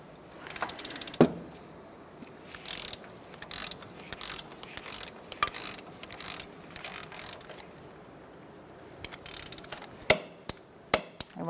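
Wrench snugging up and torquing the inner tie rod nut on a 2004–2009 Mazda 3, with a run of close ratcheting clicks and sharp metallic snaps against quiet workshop background.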